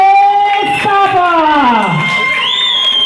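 A crowd at a stage event in Malaysia cheering and whooping loudly as a performer enters, with shouts and raised voices in one sustained wave of noise.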